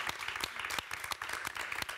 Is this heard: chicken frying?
no